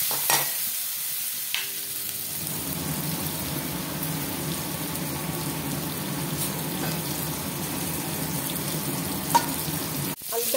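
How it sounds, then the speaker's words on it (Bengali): Potatoes fry in hot mustard oil with turmeric, giving a dense, continuous sizzle while a spatula stirs and scrapes the pan close by, steady throughout with no speech. "আলুটাকে লাল লাল করে ভেজে নেব।"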